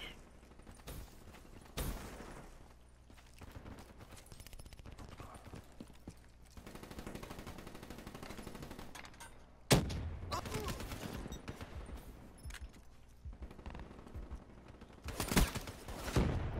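Gunfire in the video game Black Ops III: scattered shots and short bursts over a busy, fairly quiet game soundscape, with a few louder cracks standing out.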